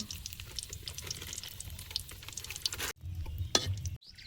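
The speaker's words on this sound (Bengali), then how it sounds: "বিটুলিটা ভেজে নেব" Lentil paste bituli frying in a pan, a steady close sizzle with small wet pops and crackles, briefly cut out twice near the end.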